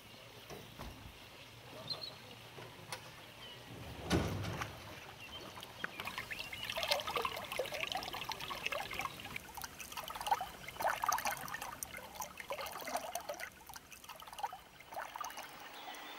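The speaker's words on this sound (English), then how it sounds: "It is important to control the inflow of water in order to keep it steady level." Water flowing into a carp spawning pond, a faint steady trickle and splash heard from a short distance, with a dull thump early on.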